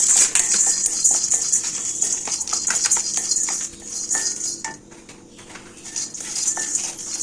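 Sunflower seeds dry-roasting in a pan, a steady bright sizzling hiss with scattered light clicks and scraping as they are stirred, continuous and close.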